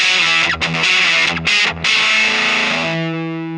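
Electric guitar through a Voltic boutique fuzz pedal with germanium diodes and the gain cranked plays loud, thick distorted chords with two brief choked gaps, then a sustained ringing note that slowly fades, alone without talk.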